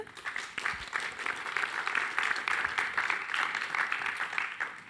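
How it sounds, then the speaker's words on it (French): Applause from an audience at the IntercoTOUR event, a steady wash of many hands clapping that holds for several seconds at moderate distance, without distinct talk over it. "Je crois qu'on peut vous applaudir"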